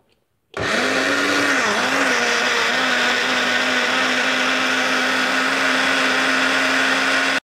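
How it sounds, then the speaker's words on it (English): A kitchen mixer blends spice paste for an extreme spicy tuna spaghetti, its motor starting abruptly and then holding a loud, steady whine and grinding roar, close up and alone throughout. "now the paste will mix in the mixer"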